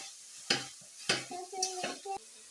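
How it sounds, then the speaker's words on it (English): Potato masher pressing and scraping minced beef in a pan for spring rolls, several sharp clacks and scrapes in quick succession, close and fairly loud with a faint sizzle beneath. "With a potato masher, you can break down your minced meat"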